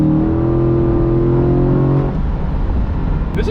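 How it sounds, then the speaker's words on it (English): Loud engine of a 2020 Corvette with the LT4 V8, a sustained close-up drone with a strong rumbling tone that eases off partway through. "this is a very loud car."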